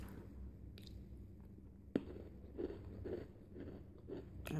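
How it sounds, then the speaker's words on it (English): Someone chews and crunches a cocoa-dipped pretzel with dark chocolate, giving soft, close bites and mouth noises in a quiet room, with no talking. "I tasted another one just in case."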